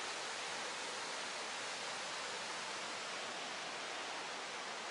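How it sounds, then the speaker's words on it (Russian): Water pours from pipes as an artificial waterfall in Kourtaliotiko gorge, a steady, even roar of rushing water with no other sounds. "это водопад искусственный"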